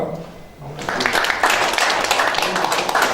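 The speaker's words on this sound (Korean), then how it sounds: "다시 한번 박수 부탁드립니다" Applause swells from a crowd after a brief pause, sustained clapping from many hands continuing steadily to the end.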